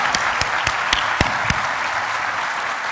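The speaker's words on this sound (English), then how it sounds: "Give her a round of applause." A large conference audience at a utility industry general session gives sustained applause, a dense wash of clapping with a few sharper individual claps standing out near the front, continuous and loud with no talk.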